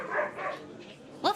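A voice imitates puppies barking, giving a short burst of woof-like yaps after some murmured sound, close and fairly loud.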